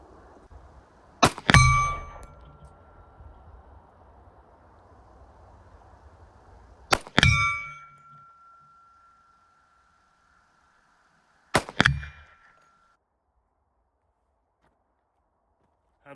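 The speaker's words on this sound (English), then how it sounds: "now we're going to shoot the 50-yard gong." Three sharp metallic rings of .45 ACP bullets from a 1911 pistol striking a steel gong at 50 yards, spaced several seconds apart, each clang ringing out briefly in an otherwise quiet outdoor range.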